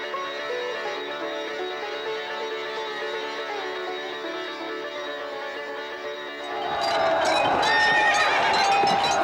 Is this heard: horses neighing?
yes